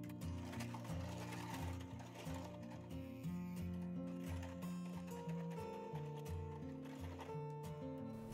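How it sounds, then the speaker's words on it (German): A sewing machine runs continuously as it stitches fabric pieces together along their long sides, a steady close mechanical whir with rhythmic clatter and no talk. "nähen sie an den langen Seiten nähfüßchenbreit fest"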